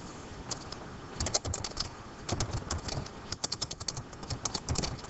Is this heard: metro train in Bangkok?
no